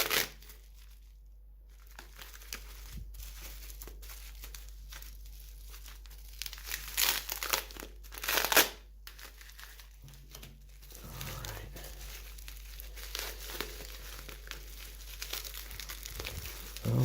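Plastic crinkles and rustles close by as a plastic bag holding a vintage Dior Homme fragrance bottle is handled and pulled open, with bursts of louder crackling amid quieter fumbling.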